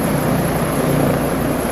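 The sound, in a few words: helicopter flying over a ship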